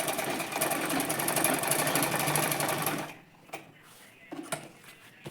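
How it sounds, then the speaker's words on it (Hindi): A sewing machine stitching a salwar with a wave-style lahiriya pattern runs loudly and steadily for about three seconds, then stops, leaving a few soft handling clicks and taps. "इस तरीके से अभी हम वापस से सिलाई लगाएंगे।"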